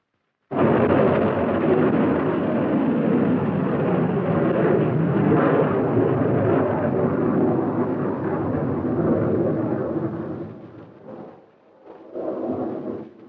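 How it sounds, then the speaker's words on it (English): An Army Nike Zeus anti-missile missile test launch at White Sands, a sudden deep roaring blast that holds loud and rumbling for about ten seconds before trailing off, with a brief renewed roar at the end. "Last to be demonstrated was the Army's Nike Zeus, the nation's only anti-missile missile under advanced development"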